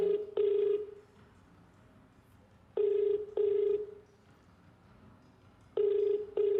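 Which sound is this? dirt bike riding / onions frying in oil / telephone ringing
telephone ringing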